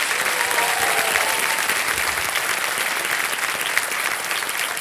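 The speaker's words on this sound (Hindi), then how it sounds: "इतनी ताली बजाई आपके लिए।" Studio audience applause on the Kaun Banega Crorepati quiz show set, a sustained, dense wash of clapping that stays loud and even throughout, with a faint voice underneath.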